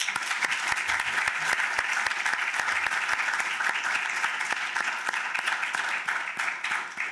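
Audience applause after a talk by Dr. Medea at an event on DNA, law, ethics and technology, a steady dense wash of many hands clapping with sharp individual claps standing out, sustained for the whole stretch.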